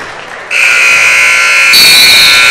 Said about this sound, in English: And there we have it, the final buzzer